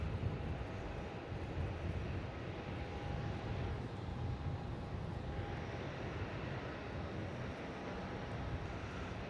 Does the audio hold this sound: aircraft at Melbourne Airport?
yes